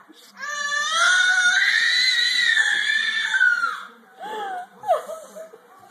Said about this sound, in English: He's going to hyperventilate, pass out from all that screaming